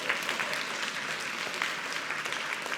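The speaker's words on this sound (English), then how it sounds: "You can give her a round of applause." An audience at a hospital heart forum gives a steady round of applause, a dense, continuous patter of many hands clapping at moderate distance, with no talking over it.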